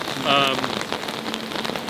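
Steady rain falls outdoors at a street gathering outside Sydney Town Hall, a dense, even hiss of drops hitting hard surfaces nearby, with faint talk now and then in the background.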